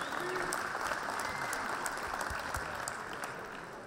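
Applause from the audience at a professional boxing event greeting the BDB vice-president, steady and fairly loud clapping that fills the whole moment with a crowd murmur beneath.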